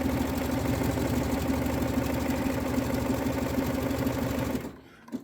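Sewing machine stitching waistband elastic, a steady close mechanical whir and rapid needle chatter that runs continuously before stopping abruptly near the end.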